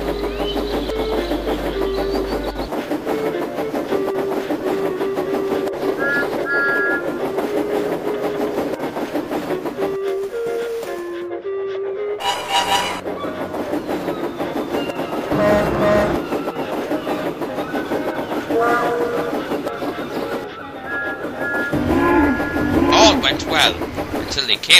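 A steam engine runs along rails at steady speed, a continuous rumbling rattle with clickety-clack and a brief horn-like tone, loud and close, with music mixed in throughout.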